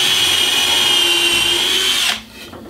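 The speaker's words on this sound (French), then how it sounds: "On est en mode perçage sur le couple. On est en haute vitesse." A Triton 12V impact driver in drill mode spins at high speed with a steady, loud motor whine that holds for about two seconds and then cuts off abruptly.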